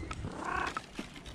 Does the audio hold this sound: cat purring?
yes